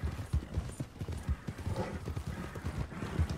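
In Red Dead Online, a horse's hooves clip-clop steadily in a quick rhythm alongside a brief whinny, fairly quiet and mixed with faint game ambience.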